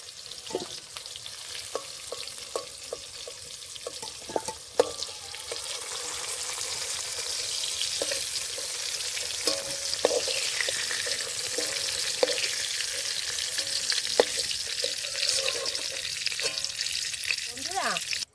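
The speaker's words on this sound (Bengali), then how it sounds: "আলুটা ভাজতে ভাজতে পুরো সেদ্ধ হয়ে গেছে এখন আমি নামিয়ে নেব" Potatoes frying in oil in a pan give a steady close sizzle throughout, broken by sharp clicks and scrapes of stirring, with no talking.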